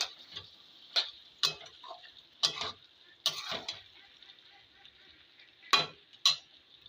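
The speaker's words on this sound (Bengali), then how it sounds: "এবার একবার নেড়ে দেবো" A spatula stirs chicken skin, feet and bones in a pan, making a series of sharp scraping clanks at irregular intervals over a faint sizzle.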